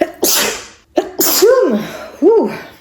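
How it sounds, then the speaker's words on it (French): A person sneezes loudly up close, with sharp breathy bursts followed by a couple of strained vocal exhalations. "Je vais éternuer."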